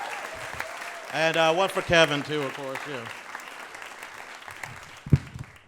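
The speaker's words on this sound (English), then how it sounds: "How about a round of applause for all my new friends you guys saw tonight" A live comedy show audience claps and cheers briefly, a bright wash of applause that swells and then fades as someone speaks over it and keeps talking afterward.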